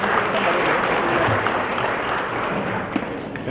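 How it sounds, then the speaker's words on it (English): An audience gives sustained applause at a Philippine National Police Engineering Service 25th anniversary ceremony, many hands clapping steadily in a large hall, gradually thinning toward the end. "A warm applause, ladies and gentlemen."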